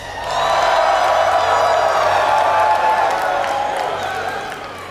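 A large audience at a League of Legends tournament erupts in cheering and whooping, a loud sustained roar that swells quickly, holds for several seconds, then slowly fades.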